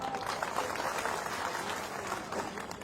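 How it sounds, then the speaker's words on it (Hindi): Crowd applause at a political rally in Etawah, a dense steady patter of clapping that holds throughout, with faint voices mixed in. "सही और ताली बजा दो।"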